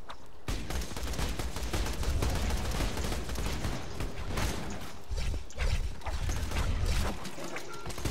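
Rapid bursts of gunfire from a weapon in the video game Borderlands 2 crackle steadily for several seconds, dense and continuous with loud repeated shots over a busy backdrop of game noise.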